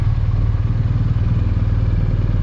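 A BMW R1250RS flat-twin motorcycle engine running close by, a steady, low, pulsing throb with an even mechanical rhythm and no voices over it.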